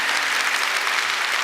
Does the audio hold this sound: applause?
yes